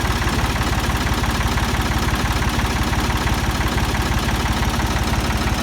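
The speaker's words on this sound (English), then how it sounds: "Pump the throttle." A Ford 2000 tractor engine runs loud and close with a steady, rapid chugging beat while the throttle is pumped, and the revs stay fairly even throughout.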